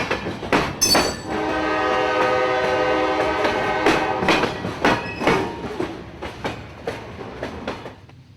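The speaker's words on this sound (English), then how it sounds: "This is a K train heading north in February 2006." A northbound freight train on the former Seaboard line near Jacksonville blows a long, loud horn at a railroad crossing, followed by rhythmic wheel clicks and thumps as the cars roll past close by.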